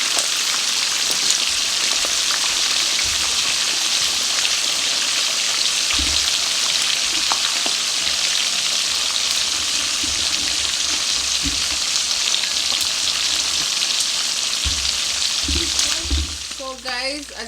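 Jamaican escovitch fish frying in hot oil in a pot gives a loud, steady, dense sizzle like heavy rain, running continuously before easing off near the end with a few clinks.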